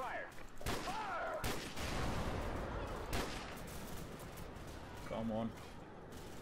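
A Call of Duty 4: Modern Warfare firefight, with sharp shots and bursts of gunfire cracking over a busy combat din while someone speaks briefly and radio-style voices chatter.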